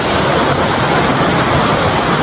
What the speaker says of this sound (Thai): นี่ครับน้ำตกไหล เย็นๆครับบรรยากาศนะครับ